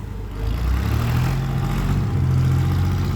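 A tractor engine, just started, runs with a deep, steady rumbling drone that swells after a brief moment and holds loud and close.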